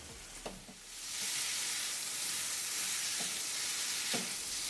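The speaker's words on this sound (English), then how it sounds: "Our paneer tikka is sizzling and smoking hot." Steady, close sizzling of paneer tikka frying in a hot pan, a continuous crackling hiss with a few small pops and stirring knocks.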